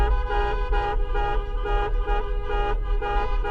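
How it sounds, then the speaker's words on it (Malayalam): A convoy of cars on an off-road desert outing honks together, loud overlapping horn blasts pulsing in a rapid, steady rhythm with no talk. "അപ്പോൾ നമ്മളെല്ലാം കൂടി ഒന്ന് ഹോൺ അടിക്കുക"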